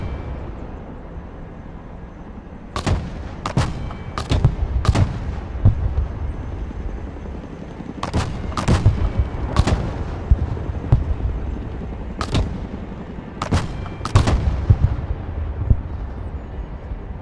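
Artillery barrage in the video game Broken Arrow, with loud booming shots in clustered volleys of two to four over a steady low rumble, repeating several times.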